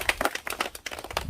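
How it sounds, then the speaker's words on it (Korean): A short stretch of audience clapping at an agricultural meeting on grape farming, quick irregular hand claps from a modest group, fairly close and brief. "박수 한번 부탁드리겠습니다."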